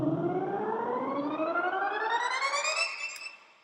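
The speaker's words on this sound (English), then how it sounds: "It's basically a low pass filter, and it's just sweeping out all of that high end" A synth sound in Logic rises steadily as a low-pass filter sweeps across it and strips away the high end, a loud continuous tone that climbs in pitch before fading out at the end.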